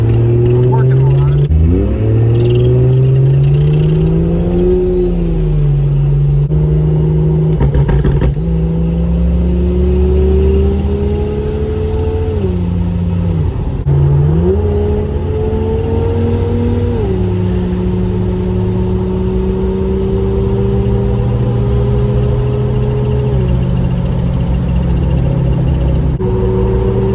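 A Jeep with a swapped-in Toyota 2JZ engine drones steadily while driving, its pitch rising and falling through gear changes, with a muffled in-cabin whir running throughout.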